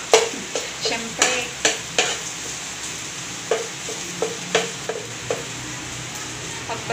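Ginger and garlic sautéing in a pan, with a spatula tapping and scraping in a regular rhythm of sharp strikes over a soft sizzle, close and fairly loud with no talk.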